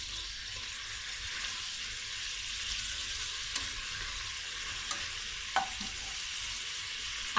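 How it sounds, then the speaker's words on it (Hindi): Garlic and ginger fry in a pot with a soft, continuous sizzle and a few light clinks of stirring, quiet and steady throughout. "लहसुन अदरक मैंने इसमें डाल दिया और ये पकना शुरू हो गया।"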